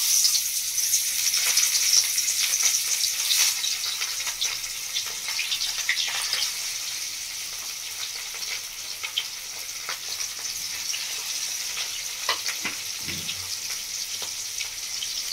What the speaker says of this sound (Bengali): বন্ধুরা তেলের মধ্যে মাছগুলো দিয়ে দিয়েছি, ভালো করে ভেজে নেবো লাল লাল করে।